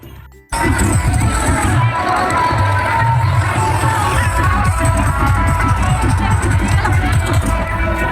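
A large festive crowd at a Ram Navami procession in Ranchi roars and cheers continuously, a dense wall of shouting and babble that swells in suddenly after a brief quieter start and stays loud throughout.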